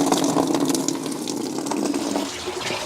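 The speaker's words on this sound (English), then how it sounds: "Let's drain it for the final time." Coolant water drains out of a BMW 7 Series with an engine, pouring steadily in a continuous close gush that eases a little toward the end, with no talk.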